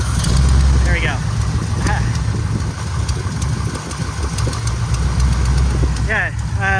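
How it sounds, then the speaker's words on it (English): A cheaply bought Corvette Stingray convertible idles with a rough, throbbing rumble from a serious exhaust leak, steady and close, with a few brief squeaks over the top. "It's got a pretty serious exhaust leak."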